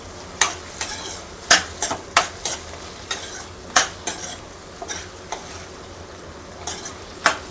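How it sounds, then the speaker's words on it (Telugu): Cucumber frying in a pan over a low flame, with a steady soft sizzle broken by repeated sharp scrapes and clinks of a utensil stirring against the pan, close and clear with no talking. "కొంచెం సిమ్లో పెట్టి అలా వేయిస్తున్నాను."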